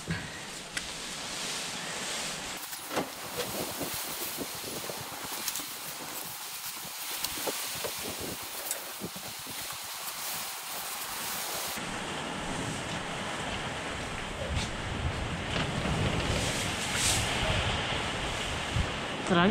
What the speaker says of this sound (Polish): Wiatr i deszcz.